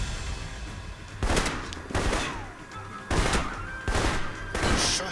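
Gunfire in the video game Alpha Protocol comes as several loud bursts of shots spread across a few seconds, each a sharp blast with a short decaying tail, over a low background rumble and without speech.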